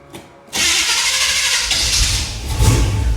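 A 1977 Chevrolet Monte Carlo engine cranks and catches after a brief pause, then runs loud and steady with a throttle surge near the end.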